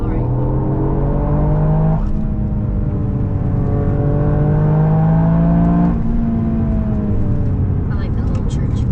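A Toyota GR Yaris with a 3-cylinder turbo engine drones loudly from inside the car, its pitch rising through the gears with two clear shift breaks and steady road noise.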